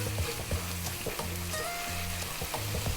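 Garlic ginger paste frying and being stirred in a hot pan, a steady broadband sizzle with repeated scraping stir strokes, close and fairly loud with no talking.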